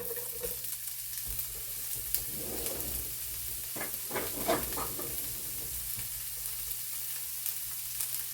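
Onions fry in a cast iron skillet with a constant soft sizzle, and a burst of stirring and scraping in the middle adds busier crackling before the pan settles back to a quieter hiss.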